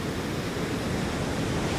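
Steady broadband roar of ocean surf waves on a beach during striped bass surf fishing, continuous and fairly loud with wind noise, no talking.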